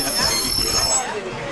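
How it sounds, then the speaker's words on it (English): A Walt Disney World Railroad train at Magic Kingdom rumbles and squeals as it slows to a stop. The wheel and rail noise is loud and close, with a voice audible over it. "Please stay seated until the train lurches to a full stop."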